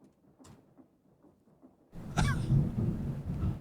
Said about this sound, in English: Okay, thunder.